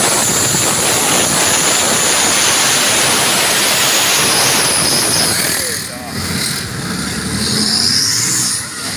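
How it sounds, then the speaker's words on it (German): A loud, roaring free-class tractor-pulling engine runs continuously under heavy load, with a brief dip and surge near the end, straining down a pull track. "Das ist freie Klasse Traktor-Pulling."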